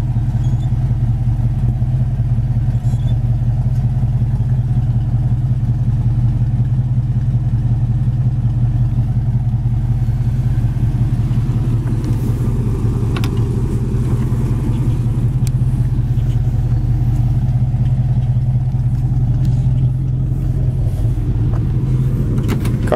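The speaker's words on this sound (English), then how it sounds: "Dual exhaust sounds nice." A 1966 Ford Mustang with dual exhaust idles at close range, a steady low, even rumble that holds unchanged for over twenty seconds with no talking.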